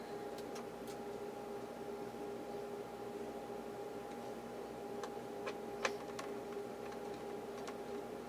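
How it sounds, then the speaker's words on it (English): Sharp clicks from a torque wrench, a few faint, scattered snaps over a steady electrical hum in a quiet room, with no talking. "Torque wrench."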